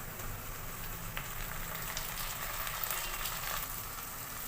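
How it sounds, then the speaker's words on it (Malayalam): Onions and capsicum sizzle steadily in a pan as tomatoes go in, a continuous soft frying hiss with faint crackles and no talk. "തക്കാളി ആഡ് ചെയ്ത് കൊടുക്കാം."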